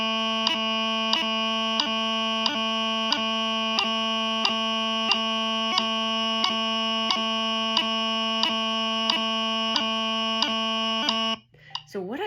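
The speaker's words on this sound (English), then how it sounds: "And we're going to do it to this metronome." A metronome ticks a steady, even beat of sharp clicks over a sustained droning chanter tone, close and clear, before the drone cuts off near the end.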